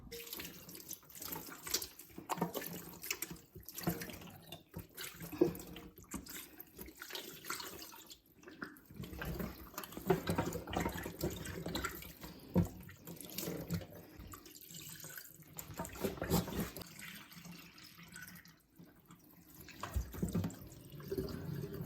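Water runs and splashes from a tap into a basin or bucket for washing ducks, fluctuating in strength, with occasional drips and handling noises, fairly quiet and close.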